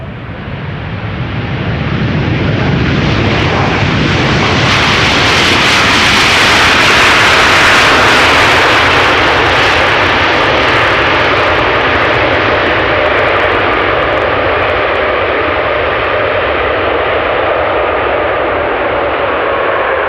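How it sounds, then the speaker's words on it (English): A Boeing 747 cargo jet lands at Amsterdam Schiphol with full reverse thrust, a loud, close, sustained roar that swells over the first seconds, peaks, then holds steady as a broad rushing drone. "747s here landed with full reverse thrust"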